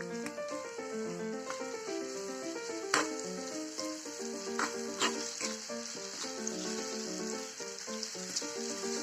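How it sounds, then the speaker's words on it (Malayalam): Chopped jackfruit frying in ghee gives a steady, close sizzle with crackles that carry on throughout, while a tonal background plays underneath. "2 ടീസ്പൂണ് നെയ്യ് ഒഴിച്ചു കൊടുക്കണം. അതിലേക്ക് അരിഞ്ഞു വെച്ചിരിക്കുന്ന ചക്ക ഇട്ട് കൊടുക്കണം."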